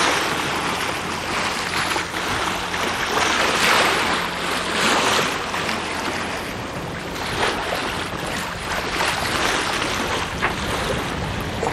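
A sailboat under jib moving through calm water, with a continuous rushing wash of water along the hull and steady wind noise and no big seas.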